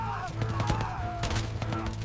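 Bursts of machine gun fire sweep a field in a recreated WWII battle at Salerno, rapid cracks repeating over a low rumble, with shouting and a droning tone in the mix.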